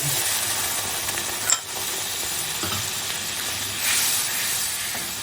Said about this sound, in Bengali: ছোটো এলাচি বাটা একসঙ্গে মশলাটাকে কষিয়ে নেবো